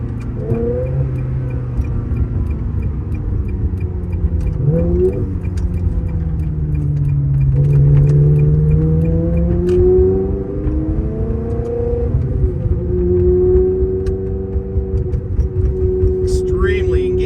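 A 2000 Ferrari 360 F1 Modena is driven on the road. Its engine note climbs and falls repeatedly through the gears, with sustained tonal revving that rises to a strained pitch and settles back, close and loud from inside the car.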